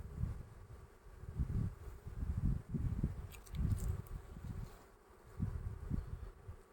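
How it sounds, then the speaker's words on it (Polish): A low, pulsing buzz of many honeybees on a hive frame swells and fades repeatedly, close by and steady, with no voices. "Jest tu trochę pszczoły na tej ostatniej ramce"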